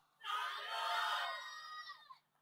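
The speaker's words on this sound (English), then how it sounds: "I want the cheering team to come out with the name." A cheering team at a memorial quiz event yells a winner's name together, a loud group shout that swells quickly, holds for about two seconds, then trails off into quiet.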